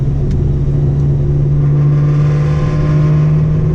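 Supercharged 2015 Chevrolet Camaro SS engine under a hard pull, a loud, steady droning roar with a strong, constant tone heard from inside the car.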